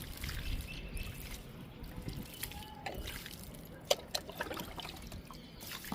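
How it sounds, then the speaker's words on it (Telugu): Water trickles and drips onto freshly sown bitter gourd seeds in soil, a faint, uneven splashing and dribbling with a few louder drops. "ఇప్పుడు వాటర్ ఇచ్చేద్దాము."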